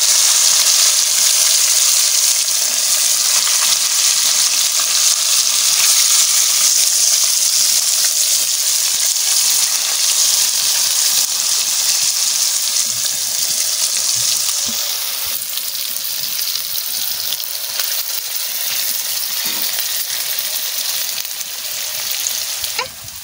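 Small fish frying in hot oil, a loud continuous sizzle and hiss that eases slightly toward the end, close up and with no voices.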